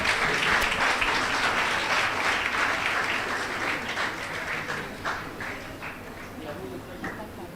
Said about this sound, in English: Can we hear a round of applause for her